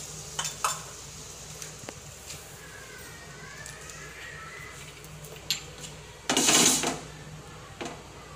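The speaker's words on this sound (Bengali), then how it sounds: "আমি ডিমগুলোকে একটু ভাজবো" Eggs fry in a pan with turmeric, a low steady sizzle broken by scattered spoon taps and scrapes, then a sudden loud burst of spitting oil before it settles. No talk.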